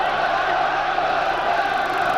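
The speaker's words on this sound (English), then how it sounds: "the Sheffield crowd getting behind the local hero" A Sheffield crowd at a boxing match roars in a sustained, dense wall of cheering and shouting that stays loud and unbroken throughout.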